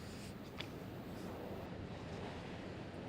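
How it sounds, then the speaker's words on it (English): The St. Joseph River in flood in downtown Mishawaka, a loud, unbroken rushing roar of raging water heard alone, with one faint brief tick early on. "This is a raging river, as you would expect."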